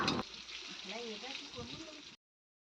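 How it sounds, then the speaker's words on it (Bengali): Eggplant slices fry in an iron wok over a wood-fired stove, a moderate crackling sizzle heard under a person talking, which stops abruptly into silence near the end. "হচ্ছে এখানে বেগুন ভাজা।"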